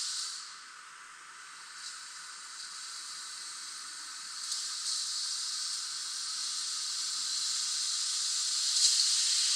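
Air hisses steadily out of a big tire on a Jeep M715, a continuous broadband rush that builds slightly louder over its length, with no voices.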